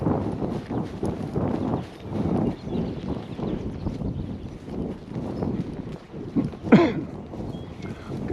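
Horses walking with a soft, steady clip-clop of hooves on the ground, outdoors with wind buffeting the microphone and a brief brighter squeak near the end.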